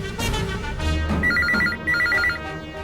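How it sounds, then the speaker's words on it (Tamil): A telephone bell rings in two short repeated bursts within an office scene from a Tamil TV drama, sounding over a steady bed of background music. "பாத்தீங்களா, கரெக்டா மணி அடிக்குது"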